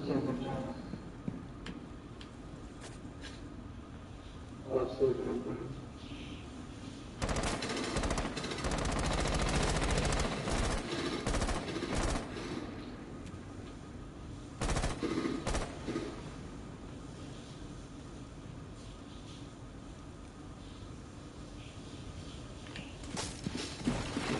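Gunfire in Rainbow Six Siege: bursts of automatic shots and single cracks, some close and loud, others fainter, scattered among game ambience with players talking over it.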